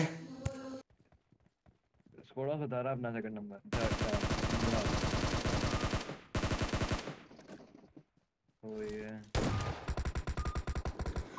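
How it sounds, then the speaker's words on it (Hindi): Bursts of rapid automatic rifle fire from a SCAR in the mobile battle royale game PUBG Mobile, loud sustained volleys separated by short gaps, with brief footstep-like clatter and a few game sounds between the bursts. "स्कारल मिलते ही मुझे आता है कुछ गन फायरिंग के साउंड"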